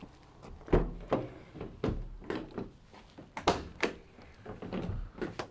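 Doors on a 2015 Ford Transit Custom 2.2 TDCi Limited panel van being worked, giving a series of close, solid thunks and clunks with latch clicks at irregular intervals, no talking.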